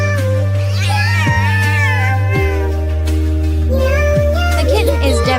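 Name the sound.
mother cat meowing as she scolds her kitten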